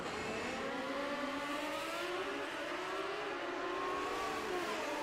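A Kawasaki drag racing motorcycle at a drag racing event screams at high revs, its engine whine rising steadily across the run, heard from a distance and fairly faint.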